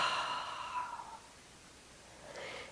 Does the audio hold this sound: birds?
no